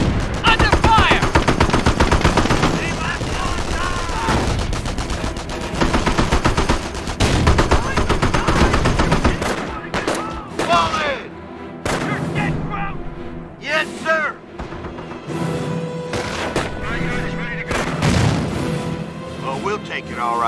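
Dense machine-gun and rifle fire with booming artillery hits in the Normandy campaign of the Company of Heroes video game. The fire is loud and continuous at first, then breaks into scattered bursts, with in-game soldiers' voices calling out between them.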